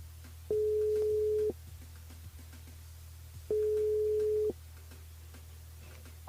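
French ringback tone on an outgoing call to a mobile phone: two long, steady beeps about three seconds apart over a faint low hum, with no talking.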